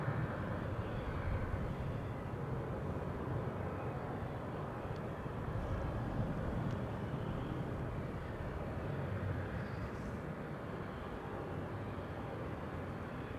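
Shamrock flight 604, an airliner arriving from Dublin at Amsterdam Schiphol, passes as a continuous broadband jet roar, steady and fairly distant, with no talk over it.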